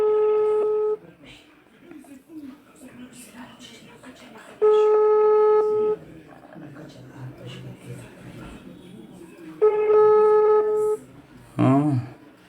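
Three long, steady ringback tones from a telephone call sound loudly and evenly spaced, each lasting about a second. A voice murmurs in the quieter gaps between them, and a short clatter follows near the end.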